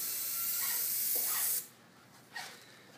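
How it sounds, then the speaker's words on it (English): A paint sprayer hisses steadily while painting exterior fascia and soffit boards on a brick house, one long close spray that cuts off, followed by a brief second burst. "this is how we spray and paint exterior fascia and soffit boards right here"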